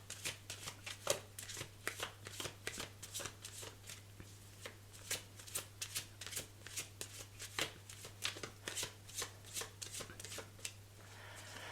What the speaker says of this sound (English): So let's pull another card for the lovers.